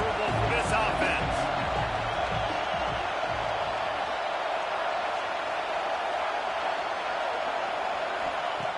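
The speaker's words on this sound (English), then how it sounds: "This crowd trying to make life miserable for this offense." Loud, constant roar of a stadium crowd in an NCAA football video game, a dense wash of noise with a brief burst of cheering and thuds near the start, under faint commentary.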